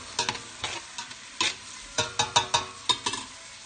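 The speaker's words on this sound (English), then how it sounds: "We're gonna brown up the garlic and onions first." Garlic and onions browning in a pan, heard as a soft frying sizzle broken by about ten sharp scraping stirs in uneven bursts, close and moderately loud with no talking.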